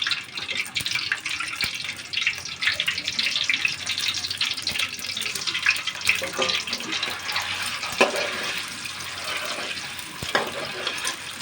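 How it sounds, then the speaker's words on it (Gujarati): Eggs frying in a pan for an egg curry, giving a steady broadband hiss and spatter that runs throughout at moderate loudness, with a few sharper pops and no voices. "આવી રીતે આપણે ફ્રાય કરીશું."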